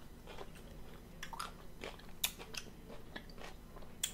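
Someone bites and chews vegetables with ranch and tahini dip at close range during a healthy eating session, giving crisp crunches and wet chewing at an irregular pace, with no talking.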